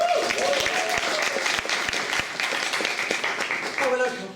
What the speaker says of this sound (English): Please give another big round of applause to our last act.